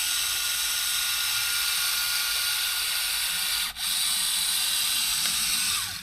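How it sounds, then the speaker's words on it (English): An electric silicone gun dispenses sealant during a van floor build, making a steady hissing mechanical whir with one brief dip partway through, close and continuous. "just using our electric silicone gun, which makes life a lot easier for us"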